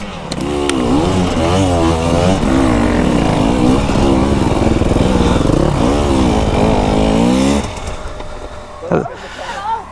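A KTM motorcycle engine revs hard and close, its pitch climbing and falling through repeated throttle blips for several seconds before dropping away, with a brief rev near the end.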